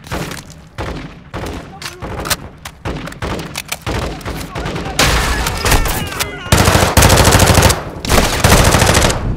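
Heavy automatic gunfire in Call of Duty Modern Warfare II rattles in rapid, dense bursts throughout, loud and close, with thuds and blasts mixed in and voices underneath.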